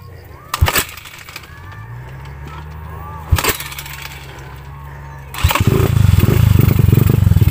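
A RUSI KR Mini motorcycle engine on an offroad outing, with a few sharp bursts and a steady low running drone, then a louder, rougher revving surge near the end while people talk nearby.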